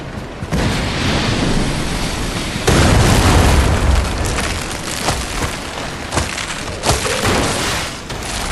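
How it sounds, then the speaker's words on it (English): Cluster grenade blasts in the action game Lies of P, a loud, dense run of booming, crackling explosions with splintering bursts lasting several seconds, one heavier blast midway followed by scattered pops. "Cluster grenade, alright."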